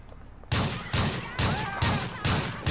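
Shotgun blasts in GTA LCPDFR, five or six loud, booming shots at a slow, regular pace about every half second, each with a short ringing tail, after a quiet stretch of light background noise.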